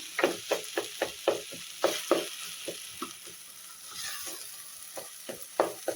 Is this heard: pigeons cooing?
no